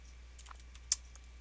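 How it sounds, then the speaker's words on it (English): Quiet, sparse keystrokes on a computer keyboard, a few light clicks in a short burst with one sharper tap, heard alone in a still room. "let's see if I can type this correctly."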